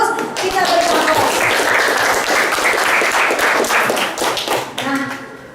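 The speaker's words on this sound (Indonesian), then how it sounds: "Kita beri aplaus." Lively applause from a junior high school classroom, dense clapping close by lasting about five seconds before tapering off, with voices mixed in.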